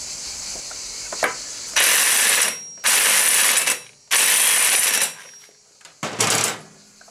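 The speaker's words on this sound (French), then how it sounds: "je vais le serrer tout de suite avec la douille de 27" A ratchet wrench fitted with a 27 mm socket tightens the clutch pulley nut on a Piaggio MP3 500 scooter, giving four loud, close bursts of rapid clicking, each about a second long, with short gaps between them.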